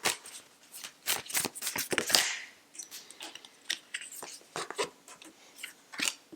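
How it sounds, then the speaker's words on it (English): A deck of Sahara Rose Yogic Path oracle cards shuffled and drawn close up, with bursts of papery riffling, slapping and flicking cards in an uneven rhythm. "Going to get you out a Yogic Path card now from Sahara Rose"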